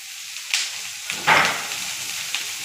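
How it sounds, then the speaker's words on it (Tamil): Onion, green chili and chopped tomato sauté in a pan for an onion gravy, a faint low sizzle broken by a few sharp scraping stirs, one louder swish near the middle. "சேர்த்துட்டு நல்லா வதக்கிக்கங்க."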